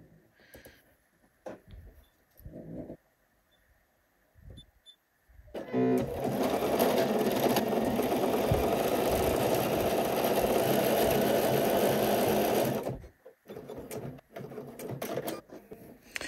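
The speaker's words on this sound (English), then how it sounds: "we're going to sew our seam here at 3/8 of an inch" A sewing machine stitches a 3/8 inch seam in one long, steady run of close mechanical whirring lasting several seconds, framed by quiet handling clicks and pauses before and after.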